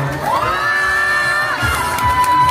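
A crowd at a Miss Gay 2022 pageant in Angeles City, Pampanga, cheers with long, high whoops and shouts over a rumbling background of many voices, loud and close.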